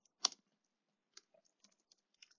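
Keys on a computer keyboard clicking sparsely and softly, one sharper keystroke near the start followed by scattered single taps, quiet and close with no talking.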